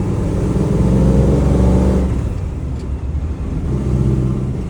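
A car engine fitted with an aftermarket off-road carburetor, either an Edelbrock or a Quadrajet, revs loud and close, then the roar drops back and builds again.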